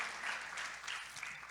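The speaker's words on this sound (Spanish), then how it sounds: "Les damos un fuerte aplauso a nuestros amigos en las redes sociales" Brief applause from a church congregation at a Spanish-language sermon service, a steady wash of clapping at moderate distance with no voices.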